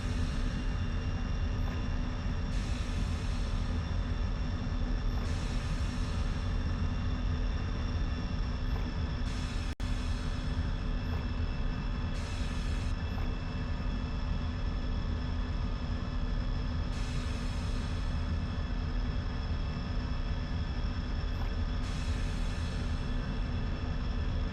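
Steady aircraft engine drone as a plane taxis out on a runway in a flight video game, a constant loud hum with stable tonal whine and brief periodic hissy bursts over it.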